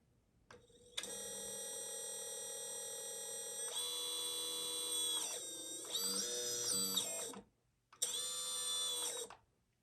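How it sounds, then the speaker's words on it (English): A FETtec drone motor is spun up on the bench during a motor test, giving a high tonal whine that shifts pitch in steps, briefly dips, stops near the end, then whines again for a last short burst. "if I test this motor"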